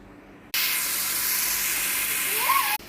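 Chicken dropped onto a hot grill hisses into a loud, steady sizzle that starts abruptly and holds for about two seconds, then cuts off.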